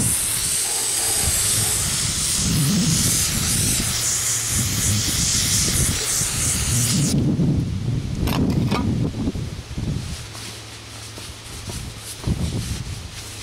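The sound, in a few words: spraying off Caterpillar generator engine part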